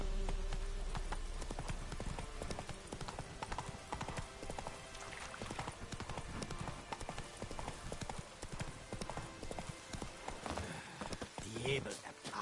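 Roach, a horse in The Witcher 3, gallops with steady rapid clip-clop hoofbeats throughout, loud and close, layered over a dense game soundscape, with a brief whinny near the end and a voice speaking over it.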